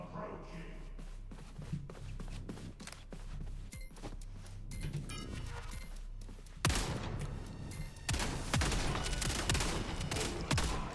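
Repeated gunshot blasts from a shotgun in a first-person shooter, rapid sharp bursts that grow louder and denser toward the end amid game noise, with some speech underneath.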